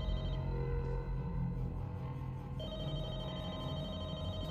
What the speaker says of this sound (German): Das Telefon!